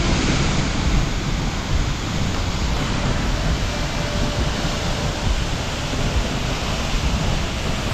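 Seljalandsfoss waterfall in Iceland, a dense, constant roar of falling water heard close by, loud and unbroken with no voices.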